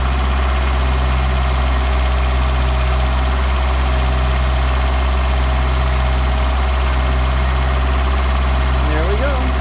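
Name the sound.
Mercedes 190SL engine idling with Solex carburetors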